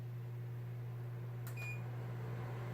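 A Wen air filtration system runs on its low setting, giving a steady, faint, low hum with no change in level and one brief high chirp partway through.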